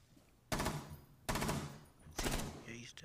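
Gunfire in the video game Rainbow Six Siege: three loud, sharp bursts of rapid shots spaced about a second apart, each ringing off briefly.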